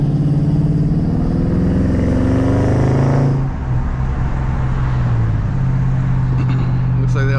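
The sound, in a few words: car engine starting and revving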